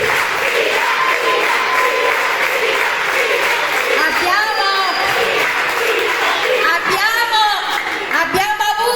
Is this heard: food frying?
no